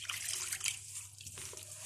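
Water poured into maize flour in a bowl while mixing dough for kneading, a continuous soft splashing and trickling that runs steadily, close and fairly quiet.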